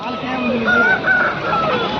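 A rooster crows amid the dense din of a country market selling Aseel and native chickens in Kundarapalli, Krishnagiri; the crowing rises over steady crowd chatter and other fowl sounds throughout.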